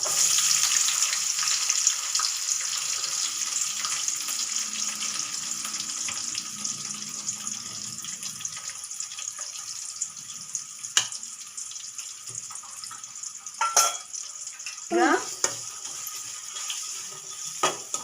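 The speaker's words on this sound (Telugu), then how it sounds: "ఆవాలు, శనగబ్యాళ్ళు, ఉద్దిబ్యాళ్ళు, తర్వాత ఆనియన్స్ వేస్తున్నాను" Mustard seeds, chana dal, urad dal and onions fry in oil, a faint steady sizzle with scattered stirring scrapes and a few louder clanks of utensil on pan.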